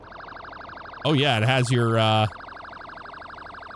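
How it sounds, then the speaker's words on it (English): A fast, warbling yelp siren from a police car in Highway Police Simulator cycles loudly, drops briefly under a short burst of a man's speech, then resumes its rapid rise-and-fall pattern. "nice priority siren. That's the Yelp."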